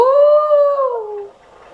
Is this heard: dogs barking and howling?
yes